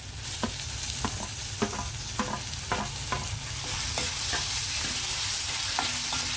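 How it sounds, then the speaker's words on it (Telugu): Onions and tomatoes frying in oil in a pan for a mushroom curry, a steady close sizzle with a string of sharp clicks from stirring spread through the clip. "ఈ ఉల్లిపాయలు టమాటాలు చక్కగా మగ్గిపోతున్నాయి కదండి ఆయిల్లోను"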